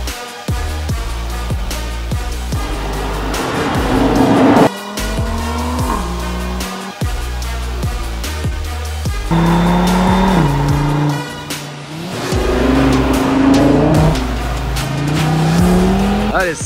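An Audi RS3 8Y's engine and exhaust rev and shift repeatedly, loud and close, with rising and falling tones, sharp gear changes and bursts of acceleration throughout.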